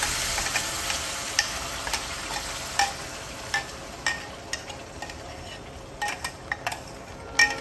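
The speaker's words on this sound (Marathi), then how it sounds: "नंतर हे वाटण जे मी केलं आहे ते ह्यात आधी छानसं परतून घेणार." A spice paste (vatan) frying in a little oil in a kadhai makes a continuous sizzle, broken by frequent clinks and scrapes of a spatula against the pan, with no talking.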